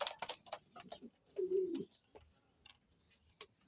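Pet pigeons or doves in a cage give a soft low coo lasting about half a second, surrounded by scattered light clicks and taps of movement, fairly quiet and close.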